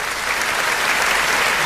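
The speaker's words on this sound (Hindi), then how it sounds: "एक बार जोरदार तालियां मेरे लिए भी बजा दीजिए।" Loud, steady applause from an audience at a Hindi love-poetry recital, filling the whole moment without a break and with no voices rising above it.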